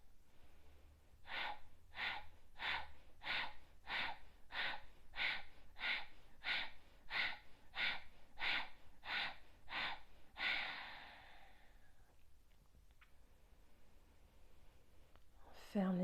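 Yoga breathing exercise: about fifteen quick, forceful nasal breaths in an even rhythm, close and clear, followed by a long exhale and quiet, then a fresh inhale at the end.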